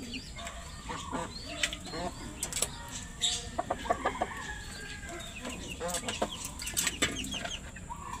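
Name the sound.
pet chickens clucking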